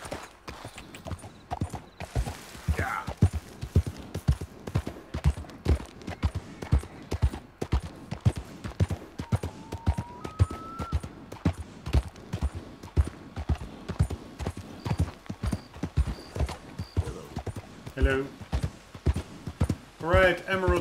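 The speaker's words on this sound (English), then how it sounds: "A bunch of wild horses." Rapid, rhythmic hoofbeats of several wild horses galloping in Red Dead Redemption 2, with occasional whinnies and brief voices over the clatter.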